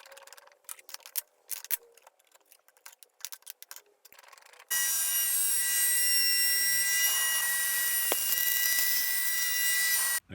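Machine cutting mortises in reclaimed hardwood side table legs: scattered scraping and tapping at first, then a loud steady high-pitched whine of the running machine that holds until it cuts out at the end.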